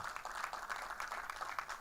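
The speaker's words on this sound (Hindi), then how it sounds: "एक बार जोरदार तालियां हो जाएं।" Crowd applause at a film trailer launch event for a Punjabi comedy, steady but fairly faint clapping heard from a distance, with no speech over it.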